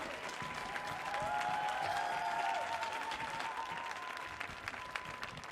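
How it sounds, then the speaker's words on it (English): A concert audience applauds performers at a stage show in a continuous wash of clapping that swells and then eases slightly, with faint whoops and a brief sustained tone beneath. "Can I have y'all out here standing up to receive some applause?"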